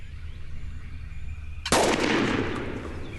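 A single loud shotgun blast rings out during a bird hunt, sharp and close, its echo trailing off over a low outdoor background.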